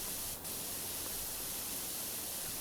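A pressure washer in PowerWash Simulator blasts water across graffiti on a watermelon-themed skatepark, a steady hissing spray that runs without break, with a brief dip near the start and no talk.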